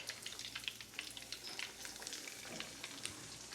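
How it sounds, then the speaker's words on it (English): A second batch of Jamaican chicken fries in oil, giving a faint, busy crackle with rapid pops and spits scattered throughout at low volume. "And then she's gonna fry the second batch."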